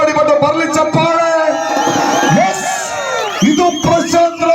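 Spectators at a kabaddi semifinal between Bank of Baroda and BMTC Bangalore cheer and whoop, a loud crowd roar rising under an announcer's voice with bursts of shouting.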